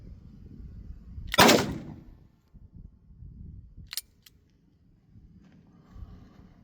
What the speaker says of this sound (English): I'll shoot it a double action.